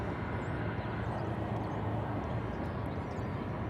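A Frontier airliner in Jack the Rabbit livery, inbound from Atlanta, approaches DFW Airport from far off, heard as a steady, even jet roar and rumble with no breaks and no talking.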